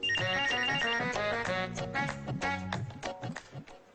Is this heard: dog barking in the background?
no